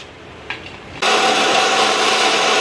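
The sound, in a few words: mixer grinder blending pineapple juice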